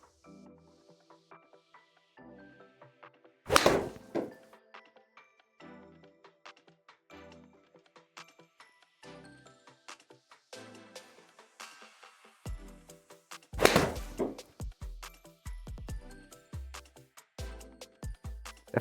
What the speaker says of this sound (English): next up we have the Ping S159 for the full swing shots